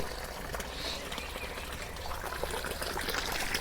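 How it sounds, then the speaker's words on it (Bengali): Government supply water runs from a tap in a quiet, steady, soft trickling pour with a faint hiss throughout, heard alone. "এই দেখেন এবার আপনার পানি পড়তেছে সরকারি পানি"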